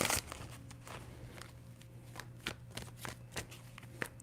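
Tarot cards are shuffled by hand in a series of quick, crisp riffling bursts and soft slaps, close and fairly quiet, with no voice over them.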